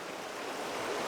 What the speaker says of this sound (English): The river is too high